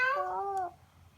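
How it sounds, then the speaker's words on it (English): A single short meow from a cat, close and clear, with a gently falling tone that fades out quickly. "What sound does a cat make?"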